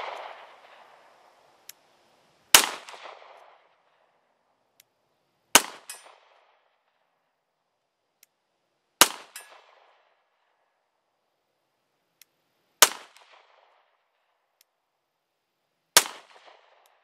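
Five sharp, loud CZ P-10 C pistol shots, evenly spaced about three seconds apart, each ringing out briefly with a short echo before quiet returns, with no talking.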